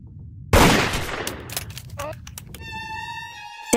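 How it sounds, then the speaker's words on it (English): A gunshot in the video game Deviltech Invasion: one loud, sharp blast followed by a decaying rumble, then scattered clicks and a sustained electronic tone, with a voice talking underneath. "A gun was fired."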